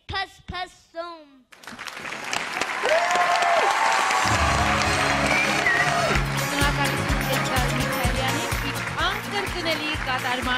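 An audience breaks into loud, sustained applause after a singing performance at a 2016 autumn contemporary arts studio show in Hrazdan. The clapping rises to a dense, steady roar after a brief vocal phrase at the start, and a voice speaks over it.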